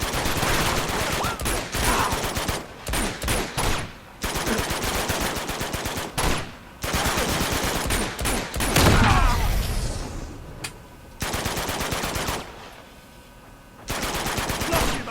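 Rapid bursts of automatic gunfire and shots in Uncharted 2: Among Thieves during a helicopter fight, loud and repeated in clusters with short gaps between volleys, plus a deeper boom midway.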